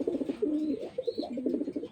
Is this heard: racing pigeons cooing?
yes